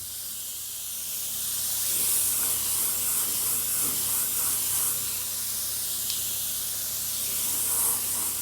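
A spray gun coats a Stuart base plate bought at auction with paint, releasing a continuous close hiss of spray that swells slightly and holds steady for several seconds, no talking over it.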